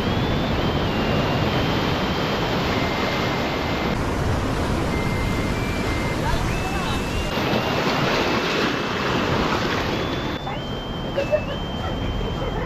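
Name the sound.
strong ocean waves at a rock formation beach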